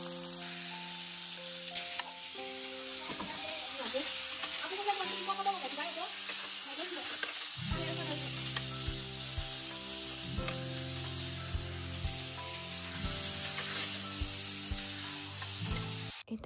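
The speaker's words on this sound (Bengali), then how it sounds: "আর রাতে শুটকির তরকারি ছিল, তো সেটাকে আমি এখন গরম করে নিচ্ছি," Leftover dried fish curry reheating in a pan on a gas stove, a steady sizzling hiss with occasional stirring clinks that runs throughout.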